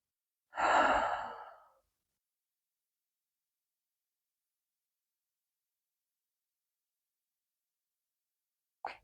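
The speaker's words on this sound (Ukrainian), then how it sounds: "Тобто робимо такий повільний довгий видих." A single slow, long breathy exhale during a core-muscle breathing exercise, soft and close, followed by near silence with a faint breath at the very end.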